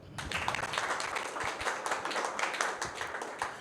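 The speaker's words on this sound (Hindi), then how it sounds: "ताली तो अच्छी सी बजा दो यार।" Audience at a drug-addiction awareness talk clapping steadily, a dense continuous patter of many hands at moderate loudness throughout, with no speech over it.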